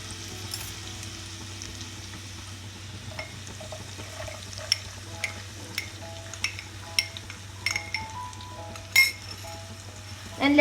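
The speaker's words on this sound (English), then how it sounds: "Now we'll add onion." Onion frying in a pan alongside ginger garlic paste for a corn capsicum masala, with a low steady sizzle under light stirring and scattered utensil clinks, growing louder near the end.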